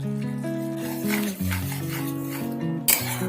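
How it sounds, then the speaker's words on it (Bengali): Pointed gourd curry with sesame is stirred and sautéed in a pan, with utensil scrapes and soft frying sizzle over a steady tonal background. "আমি আবার আরেকটু কষিয়ে নিচ্ছি"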